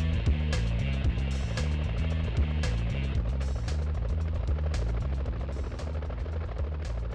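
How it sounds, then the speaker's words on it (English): A police helicopter in a Spider-Man video game, with a steady, loud, rhythmic rotor thumping that stays close throughout. "Whoa, police choppers."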